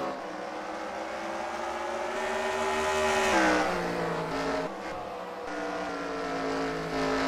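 Race cars roar around the Knoxville Raceway oval, engines droning and rising in pitch as they pass, one car surging loudly close by mid-clip before easing back into a steady distant drone.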